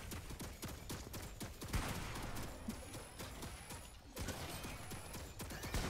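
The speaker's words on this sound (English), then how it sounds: "They're shooting at me!" Rapid bursts of gunfire crackle in a Fortnite match, with dense volleys of shots and short pauses between them, loud and continuous over a few seconds.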